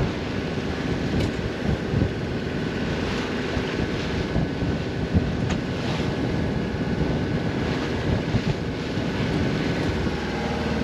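Rough seas and strong wind in the Hauraki Gulf aboard a sailing boat: a constant roar of gusting wind buffeting the microphone over the wash and slap of waves, loud and unbroken, with no voices.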